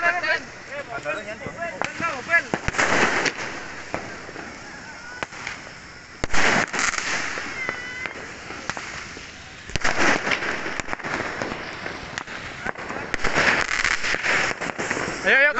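New Year fireworks and firecrackers go off in loud, crackling bursts and sharp bangs throughout, with whistling rockets rising between the blasts.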